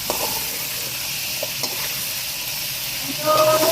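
Potatoes frying in a pan with tomato paste and chopped green chillies for aloo bhujia: a loud, steady sizzle with light stirring scrapes and a brief squeak of the utensil near the end.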